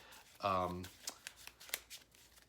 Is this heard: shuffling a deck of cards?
yes